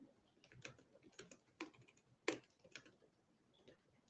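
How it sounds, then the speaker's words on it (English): Fingers tap quietly on a laptop keyboard in an uneven run of soft clicks, with a couple of sharper key strikes. Faint and close, with no talking. "Can you guys hear my typing?"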